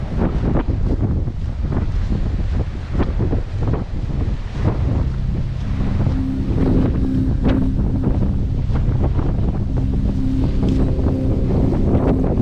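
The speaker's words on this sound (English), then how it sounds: "See the new ferry in operation." A new ferry underway on open water in cold weather, its steady engine drone and hull wash running continuously, with heavy wind buffeting the microphone throughout.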